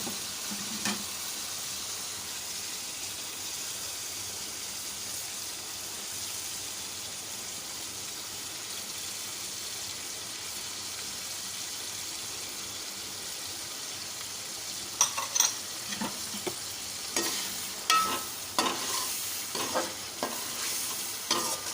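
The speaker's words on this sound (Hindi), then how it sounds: "टमाटर हमारे अच्छे से भुन जाएंगे" Tomatoes fry for chicken biryani with a steady sizzle throughout, and in the latter part a spoon scrapes and stirs the pan in repeated close strokes over the hiss.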